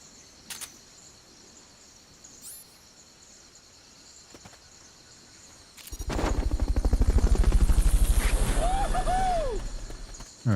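A helicopter in the video game Metal Gear Solid Peace Walker swells in with a steady, loud rotor drone that fills the last several seconds, after a quiet stretch of faint game ambience.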